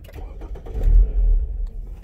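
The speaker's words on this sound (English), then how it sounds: "it's going to take a couple times to start the car." A car engine cranks and briefly catches after a power disconnect, a short low rumble swelling and fading within a couple of seconds.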